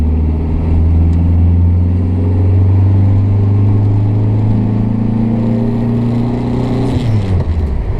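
A 1950s Renault Frégate Domaine estate car drives along with a loud, steady engine drone that slowly rises in pitch, then shifts abruptly near the end as it changes gear, heard from inside.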